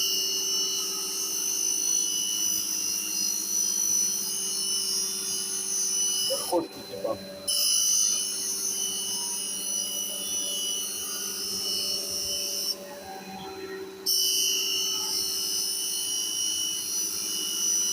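A surface grinder works over parts from an antique German milling machine, its steady high whine and hiss running continuously, broken twice by short pauses, with a voice speaking over it.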